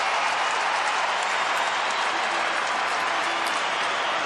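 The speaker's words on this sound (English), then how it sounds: "Stand and cheer." A crowd at a 2010 AFL match between North Melbourne and Sydney cheers and applauds a goal kicked from 55 metres, a dense, continuous roar filling the whole stretch at steady loudness.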